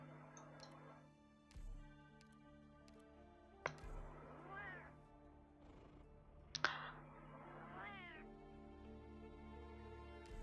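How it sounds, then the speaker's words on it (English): A cat meows repeatedly in the Arknights video game, several distinct calls spaced across the stretch over steady game music, with clicks and occasional faint speech. "No more meowing?"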